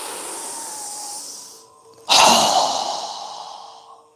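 A strong exhale during a yoga breathing exercise: a steady, soft breathy flow fades out, then a sudden forceful blast of breath bursts out close to the mic and trails away.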